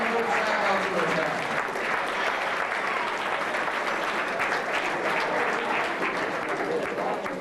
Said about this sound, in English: Come on, a nice round of applause.